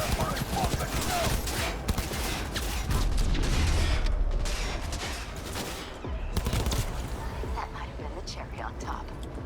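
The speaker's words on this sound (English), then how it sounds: "here is the submachine gun" A submachine gun in Cyberpunk 2077 fires in rapid, loud bursts with mechanical clatter, steady for several seconds before thinning out, as someone talks over the shooting.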